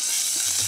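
Chopped green chili, ginger and cumin seeds sizzle in a hot pan, a steady bright hiss, close and continuous with no talking.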